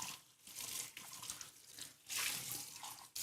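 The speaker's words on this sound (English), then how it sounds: "Just gonna rinse some stuff off so that we can use it again" Tap water runs into a sink as cocktail utensils are rinsed under it, a steady close splashing that swells and ebbs with the rinsing, with no voices.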